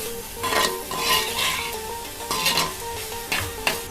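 A spoon stirs squid stir fry with ginger, garlic, onion and green chili in a pan, scraping and clinking in irregular strokes over a steady close sizzle of frying.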